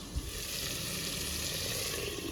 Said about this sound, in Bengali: এখানে যে পটলগুলো ভাজছি